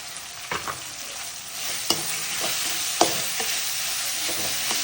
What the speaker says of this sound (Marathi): कांद्याची पात पण टाकून देऊ.